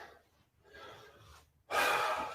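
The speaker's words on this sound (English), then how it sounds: "Deep breathing." Deep breathing during a beginner no-equipment full-body workout, with soft breaths early on, then a loud, close, forceful exhale or gasp in the final second.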